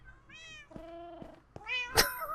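Several Minecraft cats meow in quick succession, a string of short, bright, overlapping mews close by, ending with a sharp, loud burst.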